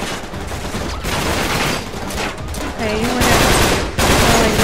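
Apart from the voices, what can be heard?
gunfire in video game Uncharted 3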